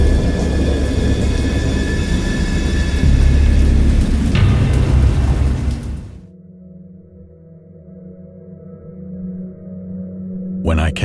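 A heavy storm roars with dense, loud rain and deep rumbling thunder for about six seconds. It then cuts to a much quieter, low hum, and a brief sharp burst comes right at the end.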